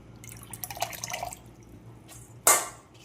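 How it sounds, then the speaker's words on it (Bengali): Leafy greens being rinsed in water in a basin, faint drips and soft splashes, then one brief sharper splash near the end, close and quiet. "এটা নিয়ে লাস্টবার ধোয়া হচ্ছে চারবার হলো ধোয়া"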